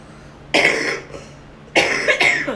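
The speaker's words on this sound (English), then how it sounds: "I still have a tiny bit of a cough" Two coughs from a person recovering from a virus, the second a quick double burst, close to the mic with quiet pauses between them.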